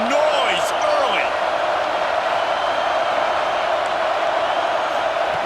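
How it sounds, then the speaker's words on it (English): A packed football stadium crowd at a college game against Iowa keeps up a steady, dense roar, with a few faint whistles rising above the wash of noise. "This crowd bringing the energy and noise early."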